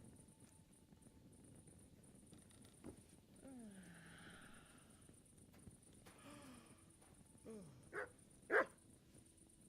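A dog in a video game gives a few short barks and whimpers amid game sounds such as hoofbeats, the calls rising in short bursts toward the end.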